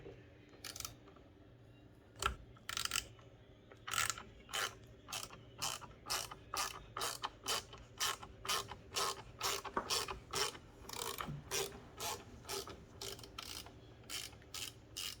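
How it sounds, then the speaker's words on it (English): A T10 driver backs small screws out of a car mirror on a 2020-2022 Toyota Highlander Platinum, making quiet, close, rapid ratcheting clicks in a steady repeating rhythm. "Then you use a T10 and you take out four little screws in there."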